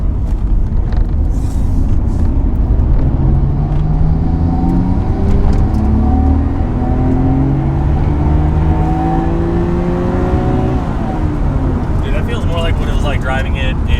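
A Nissan R33 GTR engine accelerates while driving, climbing through several gears in rising sweeps under loud steady road and cabin rumble, with faint voices at times.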